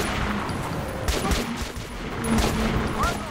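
Gunfire in the post-apocalyptic shooter Metro Last Light, a burst of several shots fired in quick succession at a moderate distance over a steady background hum, with no voices present.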